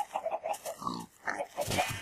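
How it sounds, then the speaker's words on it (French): Pigs in the video game Minecraft give a series of short grunts and oinks, several in quick succession. They sound close and fairly clear, with no speech over them. "Allez les cochons."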